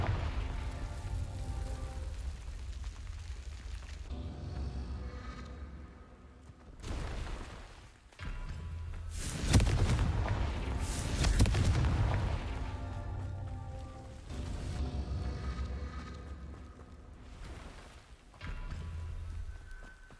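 Fiery Confringo spell blasts burst in Hogwarts Legacy, a series of loud booming explosions with crackling bursts, swelling strongest midway amid ongoing combat noise.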